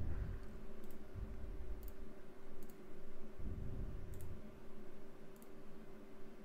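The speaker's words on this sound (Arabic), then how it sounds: "هنضغط عليه دبل كليك بالشكل ده، وهنضغط يس، وهنضغط نيكست" Quiet, crisp computer mouse clicks, a few single and paired taps scattered over several seconds while a program is installed, against a low background hum with no voices.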